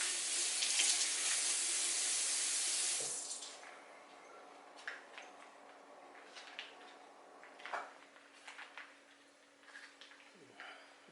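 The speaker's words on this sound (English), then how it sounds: "I'm just going to give the bag a quick rinse to get off any of the activated carbon type stuff" Tap water runs hard over an MRE pouch for about three seconds, a loud steady rush, then stops, leaving faint drips, plastic crinkles and handling sounds.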